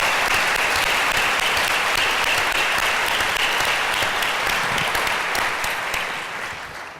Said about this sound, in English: I want to lead the applause for them